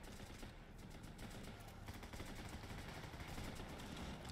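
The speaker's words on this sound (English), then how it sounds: "Oh wow, it is an airstrike." Airstrike explosions and rapid gunfire in the top-down tactical shooter game Running With Rifles, a dense continuous barrage of bursts and blasts filling the scene with no pause.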